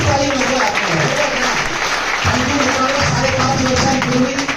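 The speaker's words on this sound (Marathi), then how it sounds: "खरंच मनापासून इमानदारीने टाळी वाजवली पाहिजे मित्रांनो" Audience applause at a live talk, steady dense clapping from a crowd that fills the whole moment at high volume, with a brief dip in the middle before it swells again.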